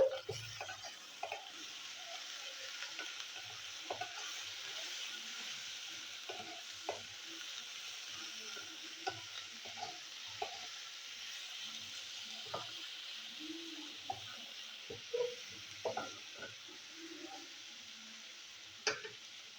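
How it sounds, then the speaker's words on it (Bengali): Bitter gourd frying in a pan with salt, a soft, continuous sizzle broken by scattered light clicks and stirring taps. "এবার আমি উচ্ছেটাকে ভাজবো।"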